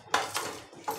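A spoon scrapes and clinks against a pan while fennel seeds and black pepper are stirred over low flame, three short metallic taps spaced through a second, close and clear with no talk.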